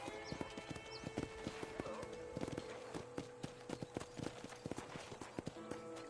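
Horse hooves clip-clopping in the video game Red Dead Redemption, a steady walking rhythm of sharp hoof strikes on hard ground with an occasional whinny, against a faint ambient background.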